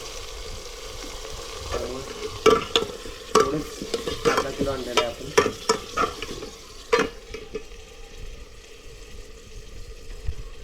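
Mutton frying and sizzling in a spiced tempering while being stirred, a steady crackle broken by sharp scraping clinks of the spoon, with a voice speaking briefly over it.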